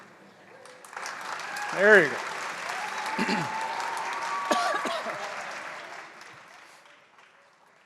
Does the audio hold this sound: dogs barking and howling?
no